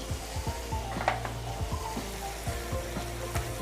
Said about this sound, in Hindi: अब बारी है मसालों को डालने की। तो अब हम मसाले डालेंगे।